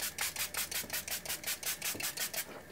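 An Atoma diamond sharpening plate being cleaned with steady back-and-forth rubbing strokes, about a dozen rhythmic scrubbing passes, close and fairly quiet.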